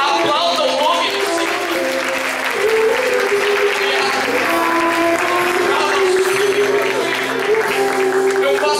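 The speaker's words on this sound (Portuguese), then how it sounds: "Aplauda o nome do" A church congregation at an Assemblies of God youth gathering applauds steadily throughout, with broadband clapping mixed under sustained music tones and some voices.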